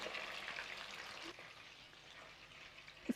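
Chicken kulfi kebabs frying in a pan, a faint, soft sizzle that fades slightly midway, ending with a small clink.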